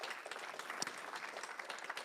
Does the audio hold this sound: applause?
yes